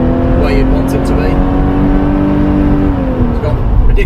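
A 1978 Porsche 928S V8 on kickdown acceleration, heard from inside the car as a loud, steady engine drone with a gently rising pitch that tapers off near the end.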